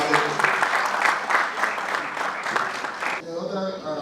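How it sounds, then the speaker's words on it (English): Applause from an audience at an engineering department reunion dinner in a hotel, a dense burst of clapping lasting about three seconds before fading into room murmur. "Let's give a round of applause to Professor Falalu."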